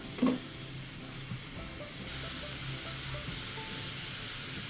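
Onions sautéing with salt in a pan, a steady, moderately loud sizzle that holds after a brief clatter near the start.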